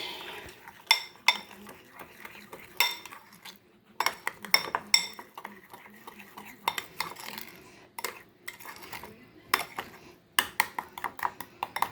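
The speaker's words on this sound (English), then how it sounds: "And then I'm going to mix it." A sugar mixture being mixed in a bowl with a utensil, giving repeated clinks and scrapes against the bowl in irregular bursts, fairly close.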